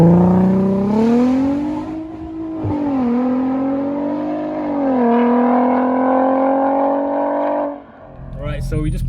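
VW Golf R32 with a swapped-in 3.6L R36 engine idling and revving, a loud close droning tone that rises and falls in pitch across several revs before dropping off near the end.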